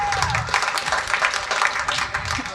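A comedy special audience claps steadily in a dense, even wash of many hands, with a faint crowd murmur throughout and no single clap standing out.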